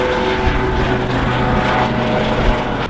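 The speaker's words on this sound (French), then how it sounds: "Ah là, il y a un bon hélicoptère." Loud, steady rotor and engine drone of a helicopter overhead, continuous throughout with no talking.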